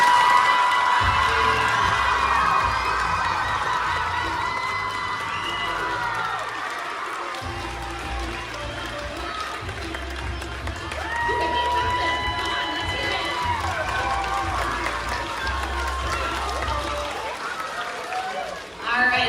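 Elementary school children in a gym cheer, whoop and clap as a crowd, a loud continuous roar that swells and dips over a low rumble, with an adult voice talking over them at times.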